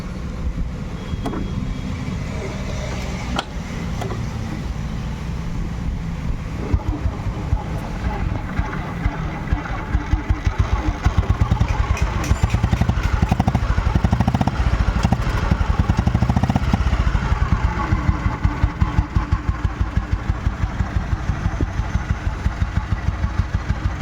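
A 2003 Royal Enfield Bullet motorcycle with a seized piston being started in a workshop, the engine catching and settling into a loud, rapid, uneven thumping run that grows stronger midway and continues to the end.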